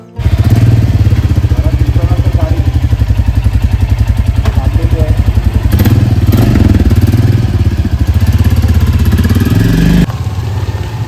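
Motorcycles, including a brand-new bike, start up on a village road in the Konkan region, a loud close engine idling with a steady rapid putter and slight revving, ending in a sudden drop as one cuts out.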